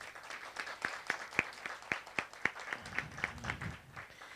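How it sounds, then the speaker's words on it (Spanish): Modest audience applause at an academic panel welcoming a guest, distinct individual claps at a steady quick rhythm, fairly faint and close, with light murmuring toward the end. "un aplauso para el maestro Ángel"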